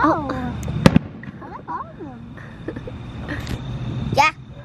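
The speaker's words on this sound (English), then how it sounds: "You like the fireworks?" Fireworks pop and crack in sharp bursts outdoors, with several explosions among whistling streaks, while adults and someone talk and exclaim throughout.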